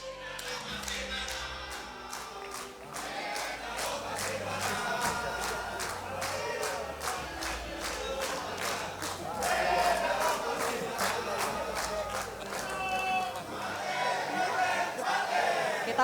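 A crowd of supporters at a business association leadership debate chants and shouts in unison with rhythmic clapping and thumping, loud and sustained throughout.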